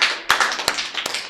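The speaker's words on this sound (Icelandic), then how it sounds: "gefum þessum skoðunarmönnum gott klapp" At the 2018 annual general meeting of the Young Pirates, the audience applauds the auditors, a close patter of hand claps with a few sharp, louder smacks standing out over a dense, brief wash.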